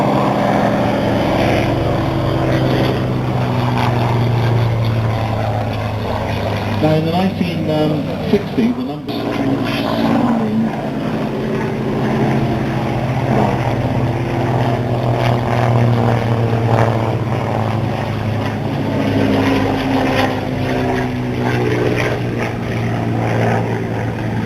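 A Hawker Nimrod propeller biplane climbs at the Duxford Flying Legends air display. Its engine drones steadily under continuous commentary from an announcer.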